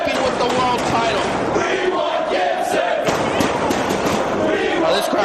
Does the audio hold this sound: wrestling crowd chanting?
yes